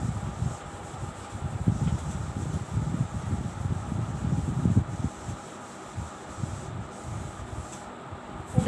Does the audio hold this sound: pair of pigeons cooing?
no